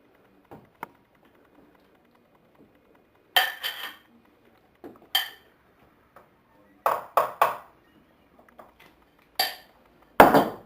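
Tomatoes being added and mixed into a bowl of guacamole, a sparse series of sharp clinks and scrapes of a utensil against the bowl, separated by quiet pauses, no talking.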